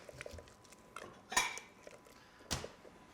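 A plate is fetched and set down in a home kitchen while beets are prepared, giving two separate clattering ceramic knocks against a quiet room, with no talking.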